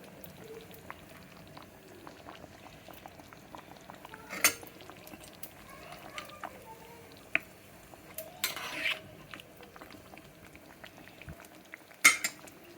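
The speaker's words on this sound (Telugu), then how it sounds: "ఇలా బాగా బాగా ఉడకాలి. ఇది ఒక 5 నిమిషాలు ఉడికిపోతుందండి." Mutton nalli (bone marrow pieces) cooking with bottle gourd in a pot, a steady low bubbling simmer with occasional clinks of a utensil against the pot and a few sharp knocks, no voices.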